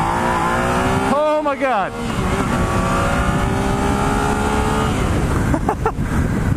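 A 2016 Yamaha XSR900 motorcycle accelerates hard through the gears, its engine note climbing loud and close, dropping at a shift and climbing again, with wind roar throughout and a rider shouting briefly.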